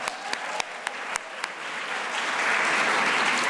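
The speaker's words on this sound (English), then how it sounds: "Let's give them all another round of applause." Audience applause for speakers at a speech night competition, starting as a few sharp separate claps and swelling into a full, dense wash of clapping from a large crowd.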